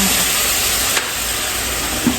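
Eggplant and pork stir-fry in a pan with soy sauce added, a steady close sizzle with faint scraping from stirring, no talk over it.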